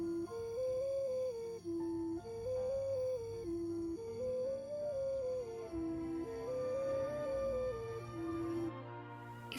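A breathy, flute-like whistle with multiple outlets, like an ocarina, plays a slow melody that steps up and down between a few pitches, continuous and steady for several seconds.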